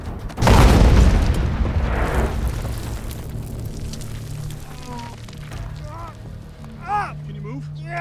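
A loud, deep boom bursts out near the start of a war-film battle scene and rumbles on for several seconds, followed by fainter crackling, while shouting voices are heard.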